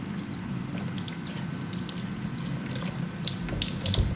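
Tap water runs steadily into a kitchen sink as freshly cut onions are rinsed, a continuous close splashing hiss with small bursts of droplets near the end.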